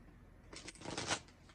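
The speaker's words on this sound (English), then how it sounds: "I didn't shuffle it enough, I don't think." A deck of tarot cards is shuffled by hand, one soft riffling burst of about a second, close but quiet, with no talking.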